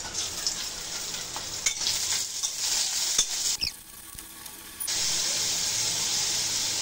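Shrimp frying in a pan for a pointed gourd and jackfruit seed curry: loud hissing sizzle with crackles and stirring scrapes, briefly dropping to a quieter hiss before the full sizzle resumes.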